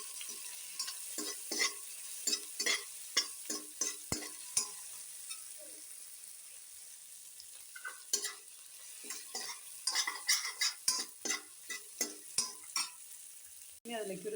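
Beef and plantain fry with spices in a pan under a quiet sizzle, while a spoon scrapes and taps in quick repeated strokes, pausing midway and then resuming.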